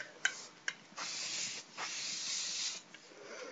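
Schwarzkopf Silhouette Pure Formula Invisible Hold hairspray sprayed from a can at close range. Two quick clicks come first, then several long, airy hissing bursts with short pauses between them.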